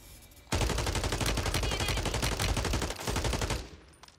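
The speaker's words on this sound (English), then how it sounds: "The shotgun be smacking" Loud, rapid gunfire from a one-shot shotgun in Call of Duty Warzone bursts in after a quiet start, dense and continuous for about three seconds, briefly pauses, then resumes before fading.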